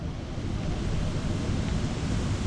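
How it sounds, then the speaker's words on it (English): Maple sap boils hard in a syrup evaporator during the 2024 syrup season, a dense, steady rushing roar of bubbling and steam that stays close and constant throughout. "Boiling good now."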